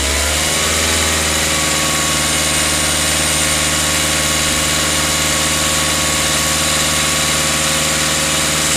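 A Mazda Bongo engine idles steadily with a constant loud hum and vibration for the whole stretch, no revving peaks and no voices.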